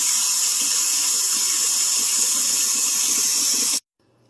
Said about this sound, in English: And then fill it with water and let it soak.